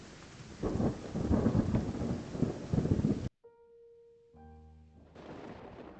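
Thunderstorm with heavy rain in the horror game Blackout, a loud rumbling downpour with thunder that cuts off abruptly, then a low electronic hum and tones before rain returns.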